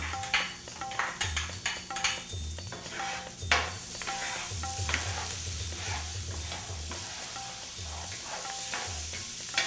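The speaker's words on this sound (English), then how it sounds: "So I'm going to cook my onions." Onions cooking in a paella pan give a steady sizzle, broken by repeated scraping and stirring strokes and a few clinks of metal on the pan, all close up with no voices.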